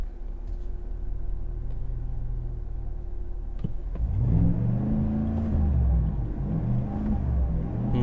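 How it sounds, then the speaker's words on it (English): A 2025 Chevy Silverado Z71 Trail Boss V8 idles with a muffled, steady rumble, then the throttle is floored and the engine swells into a louder, rising rev from inside the truck, with no talking. "I'm gonna try to floor it. Of course, it's a V8, you can still hear it, but it's kind of like muffled out."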